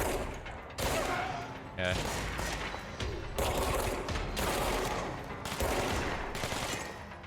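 Gunfire in the video game Control, loud repeated bursts of shots in several clusters with short pauses between them, close and punchy, with a brief spoken word among them.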